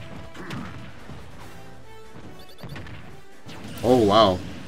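Game smack effect of a character being hit with his own crown in a platform fighter, a sharp whack near the end ringing above game music and effects, with someone talking earlier.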